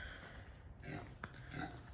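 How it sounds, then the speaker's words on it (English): A loose kunekune pig inside a farm barn, heard as faint, low grunting and snuffling sounds. The grunts are soft and scattered over a quiet, hissy background, with one brief sharper noise partway through. "Pretty good chance that we got us a pig hanging out in the barn."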